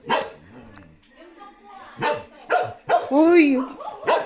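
A dog barks several times in short, close yips and woofs, some with a whining rise, interleaved with people talking nearby on a mountain trail.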